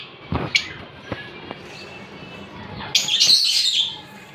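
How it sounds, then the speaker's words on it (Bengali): A pair of lutino Fischer's lovebirds at a bird market in Mirpur, Dhaka, give a few sharp, scattered chirps, then a brighter burst of chattering calls, with faint knocks and market ambience in the background. "এখানে এক পেয়ার লুটিনো ফিশার আছে"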